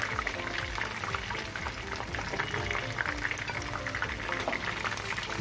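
Chicken lollipops fry in hot oil in a home kitchen, giving a dense, continuous bubbling sizzle that stays close and loud throughout, with no talking.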